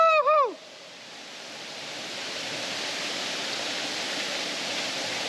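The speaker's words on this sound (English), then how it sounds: "We found the waterfall!" A waterfall near Nadi, Fiji gives a steady broadband rush that builds gently and holds, after a brief excited shout at the start.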